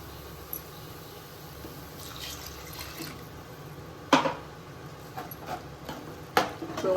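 Water swirled from a mixer jar and poured into a pan of vegetable kurma masala, with a faint liquid rush followed by a few sharp splashes and clinks near the end, close and moderately loud.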